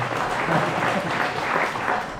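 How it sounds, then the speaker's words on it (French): Applause at a mayor's final New Year's address in Saint-André, a dense patter of clapping from a crowd, steady and close, with a murmur of voices mixed in. "Ce sont les applaudissements qui font ça"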